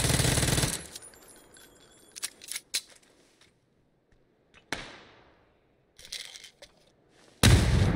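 Bursts of micro Uzi fire in a shooter video game, a loud rattling volley at the start and another at the end, with scattered sharp shots and quiet gaps between.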